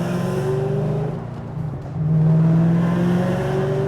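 A 2007 Ford Mustang GT500 accelerating under partial throttle, its engine note loud and close, steady rumbling and rising in pitch, dipping briefly mid-clip before surging again.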